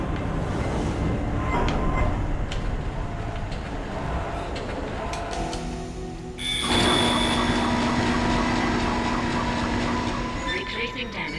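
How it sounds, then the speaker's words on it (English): A tram car in the Dead Space video game rumbles and rattles along its track, a steady mechanical drone that shifts to a brighter, whining hum partway through, fairly loud and continuous. "The tram is blocking the whole system."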